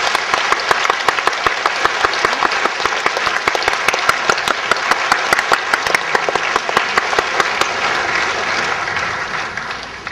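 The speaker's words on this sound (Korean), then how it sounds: "먼저 감사의 박수 주십시오." A church congregation gives a round of thankful applause, loud and sustained clapping from many people with crisp individual claps standing out, tapering slightly near the end.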